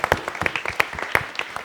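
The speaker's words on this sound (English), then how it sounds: "let's give a round of applause to Armen." Audience applause for a speaker at a Fuckup Nights storytelling event, with dense, loud clapping that continues steadily with no talk over it.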